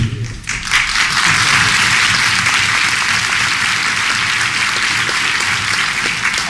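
An audience at a Stop the Violence town hall meeting breaks into loud, dense applause that swells quickly and stays full and sustained, close and filling the room.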